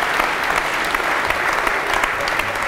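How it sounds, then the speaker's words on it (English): Sustained audience applause after a morning lecture, many hands clapping steadily and densely throughout with no break, filling the room at an even, fairly loud level. "So give yourself another round of applause."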